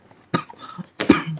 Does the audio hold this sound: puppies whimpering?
no